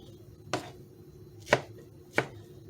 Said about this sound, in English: So I'm going to go ahead and finish rough chopping these.